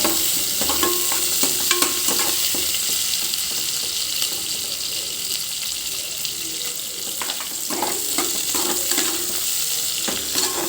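Broad beans fry in a pan, a steady close sizzle broken by repeated scraping stirs of a spatula against the metal.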